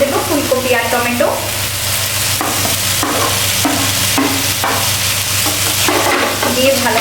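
Cauliflower and tomato are stirred into spices frying in a pan, a loud, steady sizzle with repeated scraping stirs throughout.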